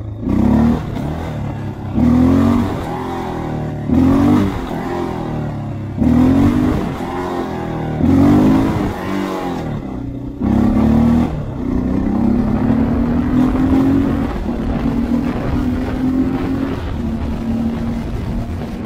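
Honda XR650L single-cylinder motorcycle revving in repeated short bursts, then holding a long rising pull as the front wheel lifts, loud and close with no talking.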